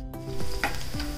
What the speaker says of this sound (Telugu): ఇప్పుడు నేను కరివేపాకు వేస్తున్నాను ఇందులో.